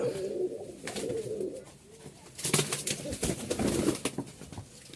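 A pair of Lakkha pigeons with feathered feet coo softly and repeatedly at close range, with a few louder bursts of cooing in the middle.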